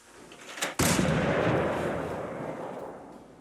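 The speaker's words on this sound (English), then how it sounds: "I built the junk mortar in Sanctuary and attached the terminal to increase its power to the maximum, which is 10." A junk mortar fires in Fallout 4, launched from Sanctuary with its power maxed at 10: a brief mechanical clunk, then a single loud, booming blast that rolls out into a long, slowly fading rumble.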